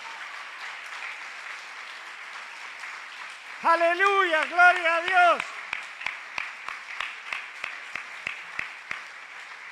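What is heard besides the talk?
congregation applauding loudly in church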